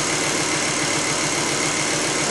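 A Volvo S70 2.4T engine idles close by, a dense, steady hum with fast, even ticking from the fuel injectors running through it.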